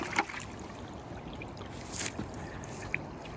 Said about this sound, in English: So we'll wash off that mud.